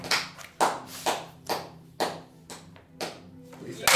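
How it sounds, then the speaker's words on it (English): Several sharp claps in a loose rhythm, close by, with a low steady hum underneath and no voices. "We're the only ones clapping here."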